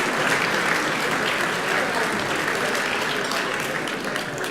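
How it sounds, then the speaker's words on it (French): An audience claps steadily for French champions of the ASS Pelote club at a local sports awards gathering, a dense, even wash of applause from many hands that fills the room and fades slightly toward the end. "Vous pouvez les applaudir, s'il vous plaît"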